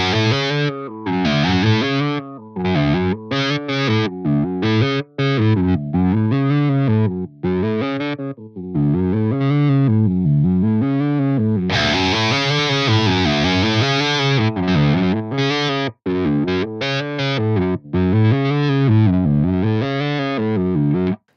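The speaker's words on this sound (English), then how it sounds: "The volume is going to go up and down a little bit." Electric guitar run through an FAS AX8 processor with a sine-shaped amplitude modulation effect, producing distorted, arpeggiated notes whose loudness gently swells and dips in a regular pulse, loud and close with no talking.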